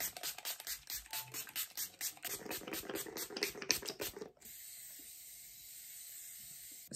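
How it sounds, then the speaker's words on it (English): A rapid series of short makeup setting spray bursts hisses rhythmically, followed by a steadier continuous hiss that fades to quiet. "I'm gonna use the Morphe setting spray"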